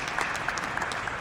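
Crowd clapping at a joint finance committee hearing, a steady, moderately loud patter of many hands heard briefly on its own.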